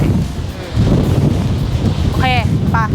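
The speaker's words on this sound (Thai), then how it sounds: "โอ้ที่นี่ลมแรงมาก แรงจริง" Strong wind roars across the top of Sigiriya rock fortress in Sri Lanka, buffeting the microphone with a loud, steady low rumble. Two brief, high warbling tones cut through near the end.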